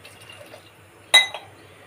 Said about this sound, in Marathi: यामध्ये आवश्यक तेवढं पाणी घालू शकतो